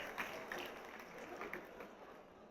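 Audience applause at a school alumni association inauguration, a fairly faint, even patter of clapping hands sustained throughout with no speech.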